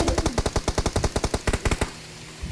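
Rapid automatic gunfire in a video game, a long burst of about twenty sharp shots in quick rhythm with a brief stutter near the end, loud and close, followed by quiet.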